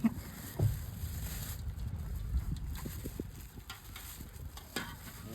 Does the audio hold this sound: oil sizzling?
yes